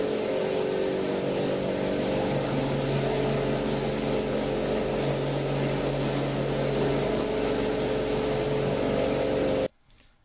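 A homemade machine for producing LP gas runs with a loud, steady engine drone and compressor-like hum. It holds constant for about nine seconds, then cuts off abruptly.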